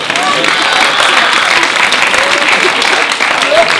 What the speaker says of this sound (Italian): Un applauso alla cara.